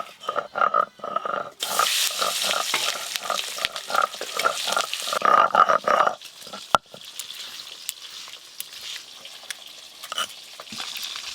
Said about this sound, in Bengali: এই মাছগুলো ভাজলেই সব মাছ ভাজা হয়ে যাবে।